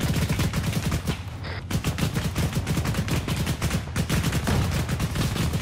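Loud, close automatic gunfire in a video game, a relentless rapid stream of shots with only brief near-gaps, filling the whole stretch without talk.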